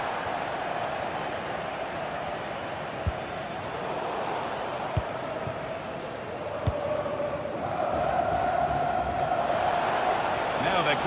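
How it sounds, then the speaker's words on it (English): Stadium crowd noise from a football video game, a broad steady roar that swells in the final seconds as spectators urge a player to shoot, with a few sharp thuds through it. "The crowd urging him to shoot."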